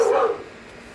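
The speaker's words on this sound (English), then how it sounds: "Apparently there's dogs next door. You can hear them, but they're like yappity" A single short dog yip or bark from next door rings out briefly, then fades into quiet; a lone, fairly sharp sound.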